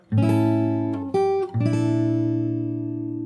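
A short passage of the Animal Crossing New Horizons theme on fingerstyle guitar, with three plucked chord strikes, close and full. The last chord rings on, and no voices are heard.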